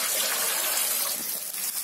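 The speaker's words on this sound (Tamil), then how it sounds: "அலசிட்டு அந்த தண்ணியை நல்லா வடிகட்டிடுவேன்" Steady rushing water pours and splashes nearby as washed greens are drained, a continuous hissing gush without pause.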